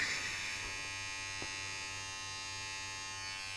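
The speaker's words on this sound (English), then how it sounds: "It's a ball trimmer." An electric ball trimmer runs close by with a steady, even buzzing hum. A faint click comes partway through, and the tone stays constant with no talking.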